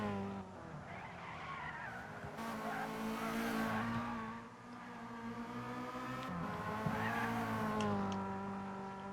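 Race cars in Gran Turismo accelerating back up to speed behind a safety car at Bathurst, a continuous layered engine drone with tire squeal and rising revs, loud and steady without speech.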